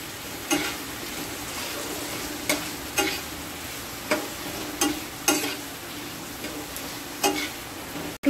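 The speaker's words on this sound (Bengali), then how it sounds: "এবার আমি ভাজা আলুগুলো দিয়ে দিলাম" Fried potatoes are stirred into sizzling masala in a pan for paneer dalna, with a soft continuous sizzle broken by about nine sharp spatula scrapes and knocks at uneven intervals.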